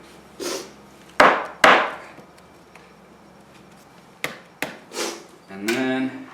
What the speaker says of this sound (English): use the nail gun to attach these pieces together